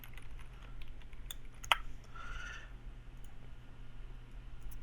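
Someone types a chat message on a computer keyboard while playing League, sending out a few quiet, scattered key clicks with one sharper tap over a low background hum.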